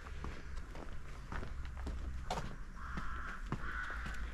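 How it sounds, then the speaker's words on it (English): Crows cawing in a garden near a hilltop monument, repeated harsh calls at moderate distance over a steady outdoor background, with footsteps and light movement close by. "you can hear the crows in the background"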